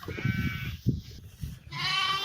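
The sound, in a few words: sheep and lamb bleating on a farm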